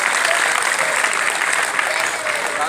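Schoolchildren and guests at a Republic Day school prize ceremony in India clapping for a student winner, a loud, dense, sustained round of applause throughout.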